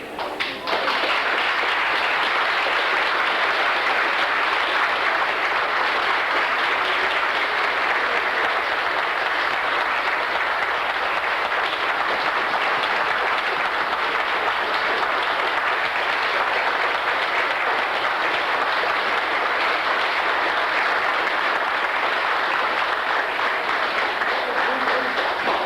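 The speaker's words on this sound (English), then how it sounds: "we give you a long round of overdue applause of appreciation" A long, dense round of applause fills a reunion hall as former plant workers are honoured, steady clapping from a large crowd that holds evenly for the whole stretch.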